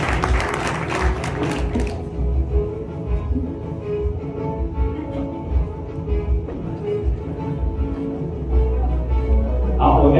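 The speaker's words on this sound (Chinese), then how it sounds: "好，掌声恭喜。" Audience applause at an award ceremony for real estate agents, with a loud burst of clapping at the start that fades into a steady murmur of a large hall crowd.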